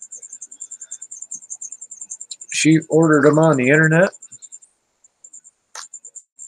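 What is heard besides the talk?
crickets chirping, kept as bearded dragon food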